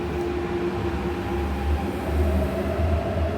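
A train idling at Tsing Yi station platform, a steady low rumble and hum with faint tonal whine, continuous and fairly close, no talk.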